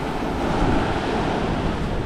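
Ocean waves on a beach on Hawaii's Big Island, a loud, steady wash of surf with wind buffeting the microphone, no voices.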